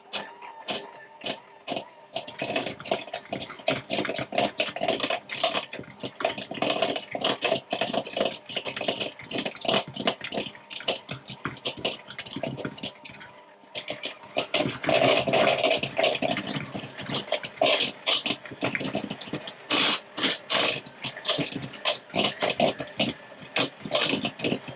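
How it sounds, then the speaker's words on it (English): A whisk beats egg into almond paste in a bowl, making a fast, continuous scraping clatter that runs steady and fairly loud with one short break partway through. "I'm actually going to put just a little drop more egg in. and give it another whisk."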